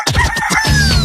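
A rooster crows once, loud and close, in a quick sputtering run that ends in a long drawn-out note, used as a radio jingle sound effect.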